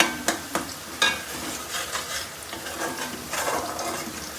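Onions frying in a pan for a potato and egg curry, with a steady sizzle, a few sharp utensil knocks early on, then softer ongoing stirring and scraping.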